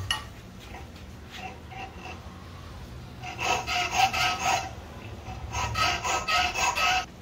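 A hand file rasps against a metal part of a handmade lever-locking folding knife, faint at first and then turning into close, regular back-and-forth strokes in two bursts.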